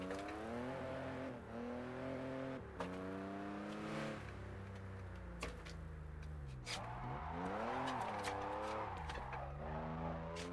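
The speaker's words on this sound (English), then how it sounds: "They didn't see me drifting." An RX-7 drifting in a JDM driving video game: the engine revs and swoops up and down in pitch, with squealing tyres skidding over it, loud and continuous, with no speech.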